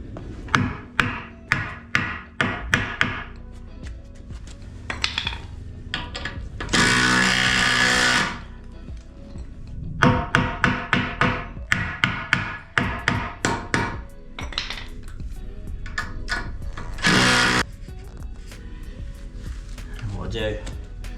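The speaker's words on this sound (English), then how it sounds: "So I need to drill, next one I need to drill slightly bigger." Heavy drilling into a concrete wall for bolt holes, an impact drill hammering in rapid rhythmic bursts with a few long steady runs, loud and close, stopping and starting between holes.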